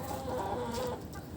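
Chickens released onto a rooftop to sit in the winter sun give soft, close clucks in a short, continuous murmur, with no voices.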